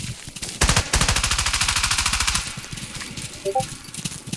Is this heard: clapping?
no